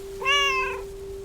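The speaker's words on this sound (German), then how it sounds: "I can't quite keep track of all your cats" A single house cat gives one short, clear meow that rises and falls over about half a second, close and fairly loud against a quiet room with a faint steady tone.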